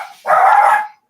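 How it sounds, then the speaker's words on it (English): One loud, close dog bark rings out inside a house, a single sharp yip-like call lasting under a second with nothing else around it. "dogs in the house"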